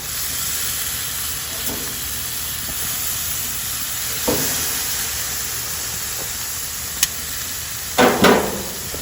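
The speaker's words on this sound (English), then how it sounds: "So this here is just to kind of get some caramelization on there." Meat sears in a hot pan for caramelization, giving a steady close hiss and sizzle throughout, broken by a few soft clicks and two brief louder scrapes near the end.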